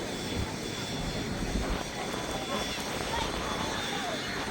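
A B-17G Flying Fortress four-engine piston bomber comes in to land over the runway threshold at Duxford, its steady engine drone filling the air at a distance under a commentator's voice.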